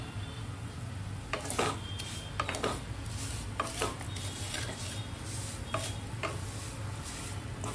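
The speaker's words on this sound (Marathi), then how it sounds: "आपण एक कढई घेतली आहे, त्याच्यामध्ये 2 मोठे चमचे आपण तूप घेतले। आता आपण ह्याच्यात शेव टाकणार।" Vermicelli roasting in ghee in a kadhai: a soft background sizzle broken by repeated scraping stirs of a spoon against the pan, arriving in irregular bursts every second or so.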